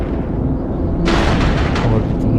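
A sudden heavy barrage of artillery fire in the space game EVE Echoes, during cruiser combat, breaks in halfway through as a loud booming burst over a steady low rumble of ship ambience.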